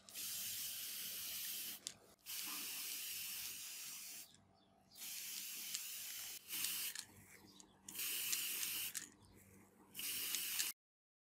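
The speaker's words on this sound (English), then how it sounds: "I'm going to apply a layer or two of clear coat to protect the paint and make sure it stays" Clear coat sprayed over paint from an aerosol can for hydro dipping, heard as five separate steady hissing bursts of about two seconds each with short pauses between, close and loud.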